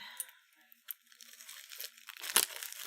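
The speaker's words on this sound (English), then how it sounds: "And just putting them back in their bubble wrap" Soft, intermittent crinkling and rustling of bubble wrap being handled up close, growing busier and louder toward the end.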